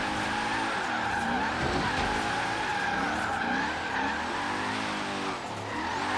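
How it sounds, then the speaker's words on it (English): Forza Horizon 3 car drifts around a roundabout, tires squealing continuously over a loud, steady engine drone as the pitch of the skid wavers, with no pause. "We're gonna drift this roundabout since I'm in friggin' the Unicorn."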